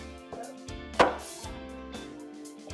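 A trash-can pan is flipped over onto a cutting board, giving one solid knock followed by a few lighter taps and handling clunks.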